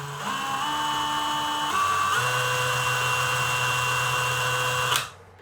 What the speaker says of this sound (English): just pre-drilling